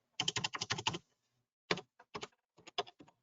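Quick keystrokes clatter on a computer keyboard as a zip code is entered: a rapid run of about eight taps, a pause, then several more scattered clicks, close and clear with no talking.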